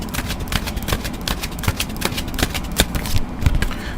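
Deck of tarot cards being shuffled up close, rapid crisp riffling bursts and flicks repeating in quick irregular rhythm, fairly loud and alone.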